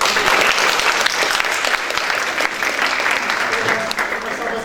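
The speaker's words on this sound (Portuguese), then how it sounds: "Uma salva de palmas para a turma do terceiro ano." Steady applause from an audience greets the third-year social education class, a full, continuous wash of many hands clapping at an even level, with murmured voices underneath.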